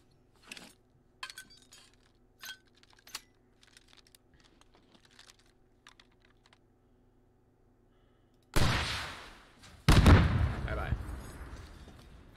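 A burning tank blown up with a Russian RPG in the Squad video game: light clicks and taps first, then two heavy, close blasts, the second with a long rumbling decay.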